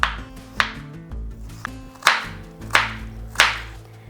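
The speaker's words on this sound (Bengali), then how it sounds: "আলুটাকে আমি একটু ছোট চৌকো করে কেটে নেব।" A knife cuts a potato into small cubes, about six crisp chops in an uneven rhythm, close and fairly loud, each with a short woody knock and a quick fade.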